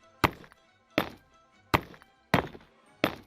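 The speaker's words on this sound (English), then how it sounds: "Now the nether bricks and the red nether bricks have this really cool sound" Five sharp, hollow block thunks from Minecraft nether bricks being placed and broken in a video game, evenly spaced about two-thirds of a second apart, each a crisp clack with a short tapping tail, close and clear with no talk.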